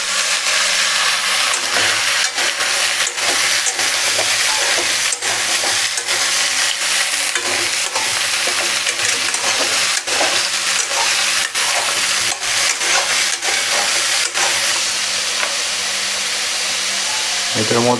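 Amaranth stems and pumpkin pieces sizzle in a pan with frying onions, a constant loud hiss broken by regular scrapes and clacks of stirring. A voice talks over the cooking.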